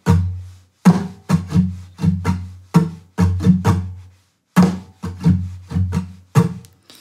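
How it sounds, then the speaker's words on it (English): Muted guitar strings are strummed in a choppy, percussive rhythm, producing short dull scratchy hits in groups with brief pauses between them. The chorus pattern for a song is heard up close, with no voice. "I'm just doing it on mute strings now."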